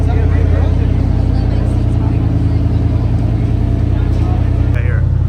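A Koenigsegg supercar's engine runs at a car show in Canada, a close, steady low rumble that continues throughout while voices chatter nearby.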